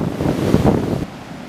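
Big ocean swell waves from a distant storm wash and roar steadily against a blustery wind, then ease off.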